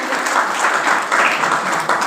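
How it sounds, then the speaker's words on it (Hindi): Steady applause from an audience at a Jain religious discourse, dense and continuous clapping at moderate level throughout. "जोरदार तालियां।"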